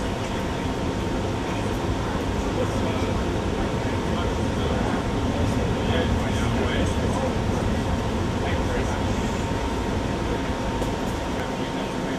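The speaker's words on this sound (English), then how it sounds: "This is 2016 Ajmer New Delhi Shatabdi Express train." Inside the Ajmer New Delhi Shatabdi Express, a steady rumble and rattle of the running train fills the carriage alongside air-conditioning hum, with a loudspeaker announcement and chatter over it.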